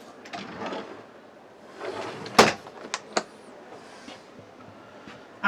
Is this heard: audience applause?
no